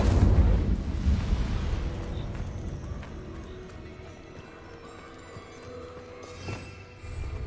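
Incendio fire spell cast in Hogwarts Legacy, a loud deep whooshing burst of flame at the start that rumbles and fades into a low crackling tail, with smaller pops and scuffs of game sound later.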